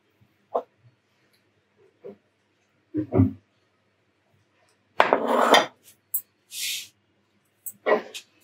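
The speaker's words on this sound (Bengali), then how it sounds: "আমি এখন ময়দাটা দিচ্ছি, খুব ভালো করে মাখাতে হবে।" Flour is mixed into a cabbage pakora batter in a bowl, producing scattered soft scraping and clinking bursts of utensil against bowl, a few brief ones and a longer busier stretch midway, close and fairly quiet with no talk.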